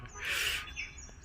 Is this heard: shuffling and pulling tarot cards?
no